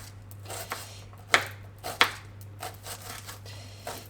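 A knife chops an onion finely on a board in a home kitchen, giving a few irregular sharp taps with two loud crisp strikes among lighter ones, close by and quiet otherwise.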